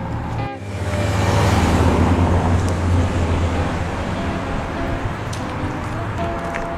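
Cars pass on a quiet country road near Chiltern, Australia, one swelling loudly close by after a brief dip, then a steadier traffic wash continues with faint high tones.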